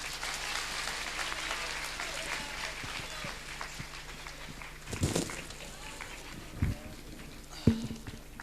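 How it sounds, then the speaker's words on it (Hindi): Crowd clapping at a birthday celebration for a spiritual leader, a steady, moderately distant patter of many hands with a few louder thumps and scattered voices, no clear speech over it. "लीजिए ताली बजा के इसको खोलो।"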